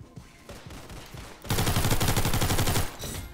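An unsuppressed MAC-10 fires in the Roblox game Criminality: a loud, rapid, sustained automatic burst lasting over a second, preceded by quieter clatter and noise.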